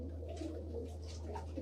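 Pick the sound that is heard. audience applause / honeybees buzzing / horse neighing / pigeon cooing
pigeon cooing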